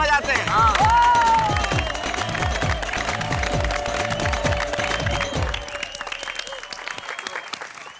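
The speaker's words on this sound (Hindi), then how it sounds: "आइए दुनिया भर के बच्चों के लिए हम एक बार जोरदार तालियां बजाते हैं" Loud, dense applause from a studio crowd for children around the world on a Hindi family sitcom set, with a bright musical sting and drumbeat under it that drops out near the end while clapping continues.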